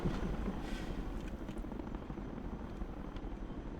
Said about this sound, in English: Helicopters are really impressive machines. Too bad they are so noisy.